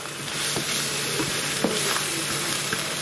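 Ingredients with butter ghee and dried fenugreek sizzling in a frying pan for chicken jalfrezi, continuous close crackling fry noise with repeated scraping stirs of a spoon against the pan.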